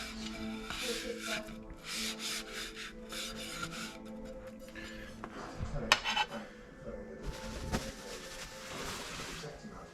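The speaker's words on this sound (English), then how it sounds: "Flip it over, rub it in." Hands rubbing a spice base rub into raw meat, a close, continuous scrubbing and rasping texture with occasional sharper scrapes, steady over a faint background and no clear talk.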